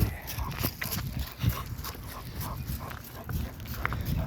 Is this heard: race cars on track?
no